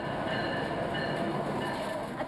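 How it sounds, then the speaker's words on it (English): A train barrels through central Davis past a row of homes and schools near Olive Drive, a loud, steady rolling rumble of wheels and cars filling the whole stretch without a break. "train barrels through central Davis, right past a neat row of homes and schools"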